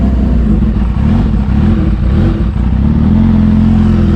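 A Kawasaki Ninja H2 motorcycle roars close by under hard acceleration, its engine a loud, steady, throaty drone with slight rises in pitch.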